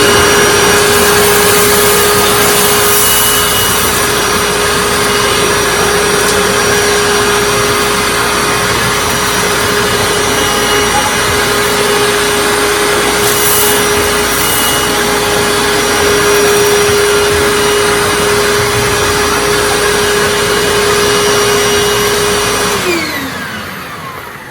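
Hoover WindTunnel Self Propelled Anniversary U6485900 upright vacuum cleaner running with its hose attached, a loud, steady whine and roar with a constant tone that holds for over twenty seconds before winding down at the end.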